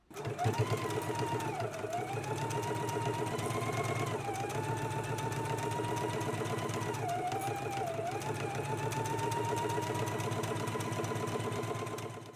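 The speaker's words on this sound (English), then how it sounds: "Let's go ahead and stitch it now." A home sewing machine stitches around the pocket of a jacket, a steady rapid mechanical whir and needle chatter running continuously at moderate volume, with slight pitch dips as the stitching slows and resumes.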